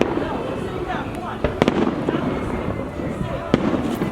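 Fireworks launched from helipads in downtown Los Angeles pop and crackle in scattered bursts, some sharp reports standing out over a rumbling background, with people talking throughout.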